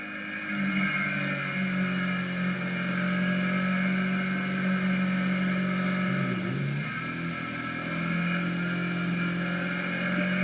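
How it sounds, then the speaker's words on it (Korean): A motorcycle rides steadily along a rural country road, its engine droning continuously with a strong low hum and wind noise, close and sustained without voices. "이 오토바이가 한 5분 달려가는 건데"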